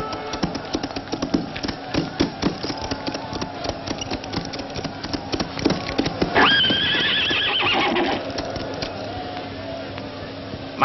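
A horse's hooves clip-clop in a steady, close rhythm, then a loud drawn-out neigh rings out before the hoofbeats continue beneath a faint engine-like hum.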